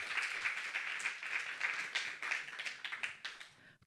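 Sustained audience applause in a French variety show studio, dense clapping throughout that fades out near the end.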